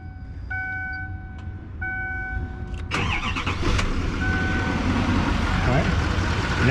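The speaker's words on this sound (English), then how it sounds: "with everything reinstalled, we're going to go ahead and start the vehicle" Duramax 6.6 diesel truck engine starting after a fuel filter replacement: warning chimes, then the starter and a rising, rough diesel rumble settling into idle, close.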